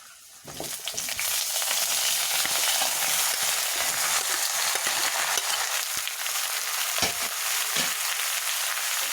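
Sliced ash gourd added to browned onions in a hot pan sets off a loud, steady sizzle that continues unbroken, with occasional faint clicks of stirring beneath it.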